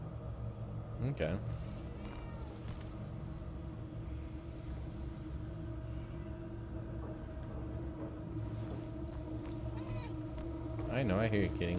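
A cat meows in the video game Murdered: Soul Suspect, with a few short cries rising near the start and again at the end over a steady low ambient rumble and game background.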